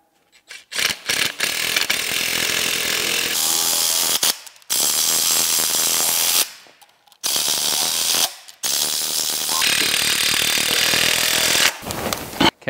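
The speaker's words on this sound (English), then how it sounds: "Now we're gonna run these in a little bit with an impact." An impact wrench runs bolts into a CAT C15 exhaust manifold during a PDI turbo install, giving loud, close, rattling mechanical bursts, roughly five runs separated by short pauses, with no talking.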